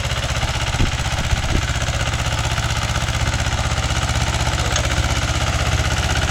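A Mahindra 265 DI diesel tractor engine runs steadily nearby, a loud continuous low knocking rumble with no pauses or change in pace.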